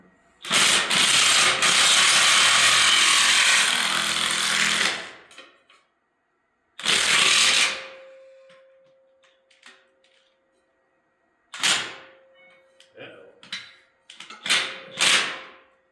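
A 1/2-inch drive impact wrench driving Titan concrete anchors: one long loud hammering burst, a shorter second burst, then several quick short rattling bursts, close by with quiet gaps between.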